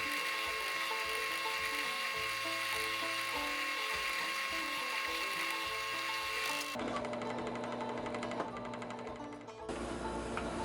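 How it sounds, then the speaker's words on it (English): A small drill bores holes across the back of knife handle scales, making a steady high mechanical whine with rhythmic grinding, close and continuous, the tone shifting abruptly partway through. "I'm just drilling small holes across the back side of the scales"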